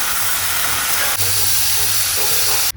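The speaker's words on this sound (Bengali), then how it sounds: "আলু ভাজা এদিকে হচ্ছে হোক," Potatoes fry in hot oil in a wok, giving a loud, continuous sizzling hiss that barely pauses once before carrying on.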